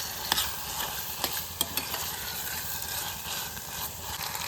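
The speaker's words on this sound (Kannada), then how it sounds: "ಈ ಚಿಕನ್ನು ಒಗ್ಗರಣೆಯಲ್ಲೆಲ್ಲ ಚೆನ್ನಾಗಿ ಫ್ರೈ ಮಾಡ್ಕೋಬೇಕು ಚಿಕನ್ನ" Chicken pieces fry in hot tempering inside a small pressure cooker while a spoon stirs them, a constant close sizzle broken by several sharp scraping clinks of the utensil against the pot.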